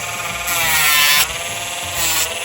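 A Dremel rotary sander grinds a dog's dew claw nail in two short bursts of high buzzing that rise above the tool's steady idle whir, close up and fairly quiet.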